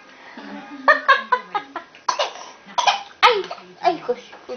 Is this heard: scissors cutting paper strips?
no